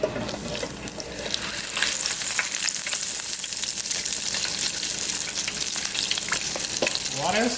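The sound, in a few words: battered chicken frying in hot grease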